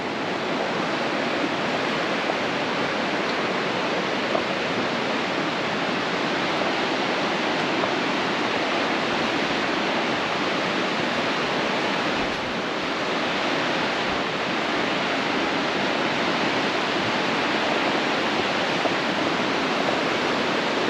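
Steady, loud rushing of the New River flowing through its gorge in West Virginia, a broad continuous roar of moving water with no talk over it.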